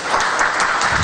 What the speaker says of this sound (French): Nous allons applaudir les panélistes.